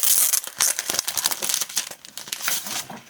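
Scissors snip a picture of a lady out of paper for a collage art journal, with quick crisp cuts and rustling paper handled close up.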